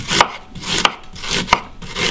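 A knife chopping peanuts on a board, three sharp close strikes spaced evenly with soft scraping between, no voices.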